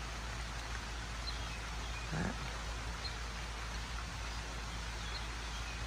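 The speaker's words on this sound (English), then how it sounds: "it's gotten a little heavier, the rain." Steady hiss of rain falling continuously, with a brief low thump in the middle and a single word spoken faintly.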